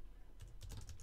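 Code is typed on a computer keyboard, a quick faint burst of several key clicks in under a second.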